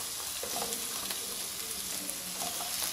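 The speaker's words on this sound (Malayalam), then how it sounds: "ഇത് നന്നായിട്ടൊന്ന് നമുക്ക് വഴറ്റിയെടുക്കാം" Onion and celery sautéing in a pan for soya manchurian, a steady close sizzle and frying crackle throughout with faint stirring clatter, no voices.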